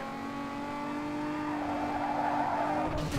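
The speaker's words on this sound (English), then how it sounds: "Drifting in my Lexus?" A Lexus drifts in Need for Speed Underground 2, its engine droning steadily while tires squeal in a sustained, wavering screech that swells toward the end.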